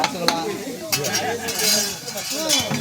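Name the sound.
stirring coriander powder and garam masala into mushroom curry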